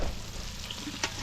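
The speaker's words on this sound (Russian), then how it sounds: "Я еще в этом всем масле обжарю вареную картошку." Boiled potatoes frying in a pan of oil outdoors in the Arctic, giving a steady close sizzle with a brief clatter near the end and no talk.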